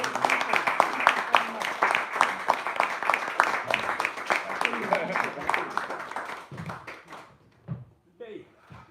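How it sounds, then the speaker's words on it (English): An audience at a cross-border rail event in Cork gives a round of applause, crisp rapid clapping that gradually thins out and fades, followed by a few close voices talking. "Can we have a round of applause for"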